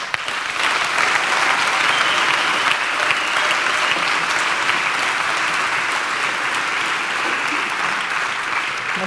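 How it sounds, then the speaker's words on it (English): Audience at the opening ceremony of a young lawyers' congress in Munich gives a sustained warm round of applause, dense and even clapping from a large hall that holds steady throughout, with no voices over it. "Please give Orsolya a warm applause"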